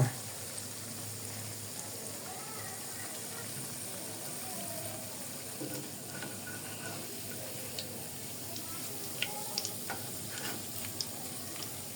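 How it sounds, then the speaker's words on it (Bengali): Onion fritters (peyaju) fry in hot oil with a steady, fairly quiet sizzle throughout, joined by occasional soft crackles and small clicks near the end. "আমি এখানে 4টা পেঁয়াজ দিয়ে দিয়েছি ভাজার জন্য।"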